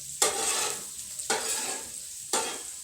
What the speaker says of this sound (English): Got it cooking in that chorizo.